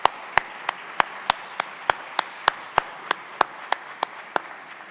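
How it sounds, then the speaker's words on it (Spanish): Slow, evenly spaced single claps, about fifteen over several seconds, crisp and fairly close in a room with a low background hum, sounding like one pair of hands clapping for Agustín at a math education conference. "pido un aplauso de todos para Agustín"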